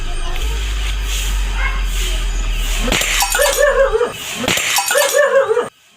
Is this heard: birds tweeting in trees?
no